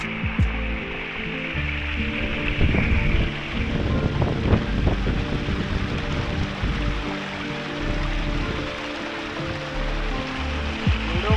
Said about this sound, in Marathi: एवढं वारं असून सुद्धा